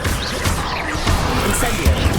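Spells go off rapidly in Hogwarts Legacy combat, a Confringo blasting curse landing amid a dense, loud flurry of crackling magical impacts and smashes over roughly two seconds.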